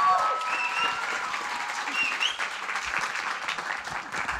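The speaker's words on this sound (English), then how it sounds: "Let's give them another round of applause." Audience applause for poetry finalists at a state poetry recitation final, a dense steady roar of many hands clapping that fills the whole stretch at close range, with a little crowd noise mixed in.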